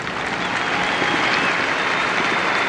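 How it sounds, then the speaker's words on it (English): Lacrosse fans at a 1994 college game applaud in a steady, dense wash of clapping from a large crowd, unbroken and moderately loud throughout. "Fans applaud as Doyle is upright."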